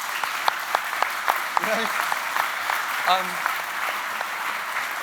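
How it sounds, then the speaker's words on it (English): An audience at a talk event in London claps, a dense patter of applause running throughout while someone speaks briefly over it. "Give her a round of applause."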